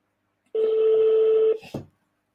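A single steady telephone ringing tone on an outgoing call, one sustained buzzy burst of about a second, followed by a brief clunk or crackle.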